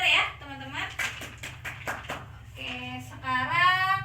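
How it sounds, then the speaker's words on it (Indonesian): A classroom of students clapping their hands briefly after a correct answer, a short patter of claps mixed with a teacher's and children's voices talking over it. "Tepuk tangan ya untuk jawabannya"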